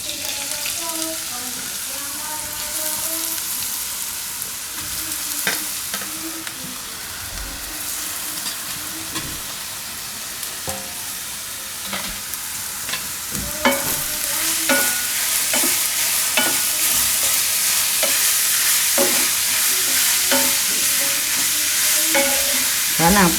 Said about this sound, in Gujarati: આને આપણે થોડીક વાર પકાવી લેવું, 2 થી 3 મિનિટ.